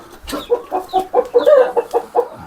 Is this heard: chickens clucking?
yes